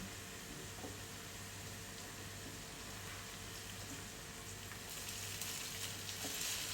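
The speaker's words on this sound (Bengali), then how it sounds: "চলুন আলু ভাজিটা একটু নাড়া দিই" Potato fry (aloo bhaji) with chili in a pan, a faint steady sizzle with soft intermittent stirring scrapes close by, no talking.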